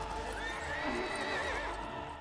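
A horse in the Lego Lord of the Rings video game lets out a loud, wavering whinny over the thud of hooves, close and continuous.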